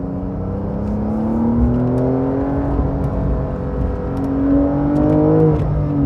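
A 2020 Porsche 911 Carrera 4S engine hums steadily and rises in pitch through a few revs, a smooth sustained drone with harmonic whine, close and fairly loud throughout.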